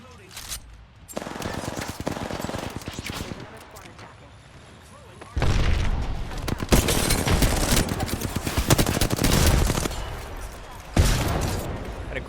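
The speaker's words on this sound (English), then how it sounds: "I hear somebody sniping from East 120" Dense, continuous gunfire from the video game Apex Legends, with rapid automatic bursts and heavy booming shots including sniping, loud and close, broken by brief lulls, with game voice lines over it.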